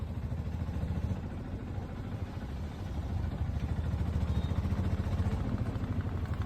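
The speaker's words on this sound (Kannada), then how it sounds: "ಗಾಡಿ ತಗೊಳಕ ಬೈಕ್ ತಗೊಂಡು" A motorcycle ridden on a road toward Bhalki, with a steady mid-pitched engine drone and road rumble running throughout, close and fairly loud, slightly stronger in the second half.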